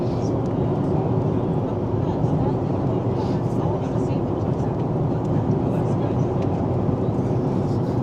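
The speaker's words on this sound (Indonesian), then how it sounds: "Bentar lagi kita mau landing di Nadi." Cabin noise aboard a Fiji Airways airliner descending toward Nadi: a steady, loud broadband engine and air roar that stays constant throughout, with a voice speaking faintly over it.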